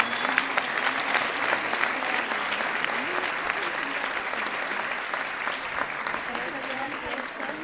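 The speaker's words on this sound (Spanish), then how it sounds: "Le solicitamos a todos los presentes un fuerte aplauso para el grupo" An audience at a graduation ceremony applauds a group, steady dense clapping from a crowd that continues evenly for several seconds with some voices mixed in.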